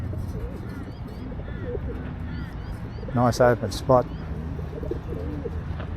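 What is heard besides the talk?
feral pigeons cooing on wires near grain silos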